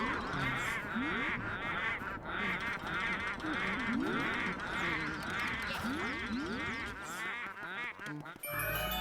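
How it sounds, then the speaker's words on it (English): Shy Guy enemies in the Luigi's Mansion video game quack over and over in overlapping, goose-like honks, loud and continuous, with a dense chorus of calls filling the scene. "I haven't heard the Shy Guy quacks yet."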